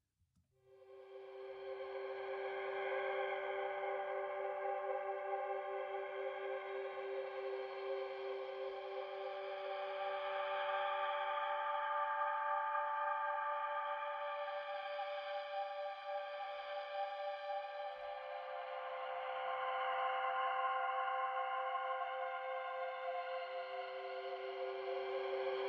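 Sustained Absynth synthesizer texture plays back, a soft evolving pad of held tonal layers that swell and recede slowly, fairly quiet and steady with no talking.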